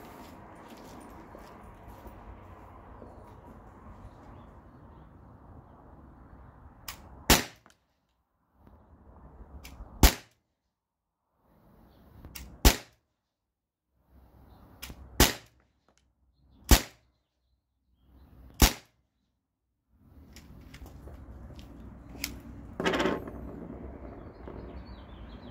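A modded T4E TR50 is fired outdoors at a target from a short distance. About seven sharp, crisp shots ring out one at a time with irregular pauses, over faint ambient background and bird sounds.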